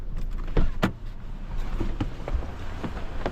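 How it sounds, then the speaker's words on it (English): A truck approaches along a rural road in Queensland's Brigalow Belt, heard as a steady low engine and tyre rumble mixed with wind, broken by a few brief knocks and thumps. "There's a truck coming."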